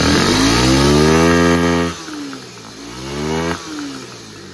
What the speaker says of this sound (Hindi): हाई आरपीएम देते हैं एक बार ठीक है, टोटल देते हैं।